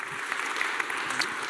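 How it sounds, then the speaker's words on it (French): Dense, steady applause from a conference audience, moderately loud and continuous with scattered sharper claps. "On peut les applaudir, en effet."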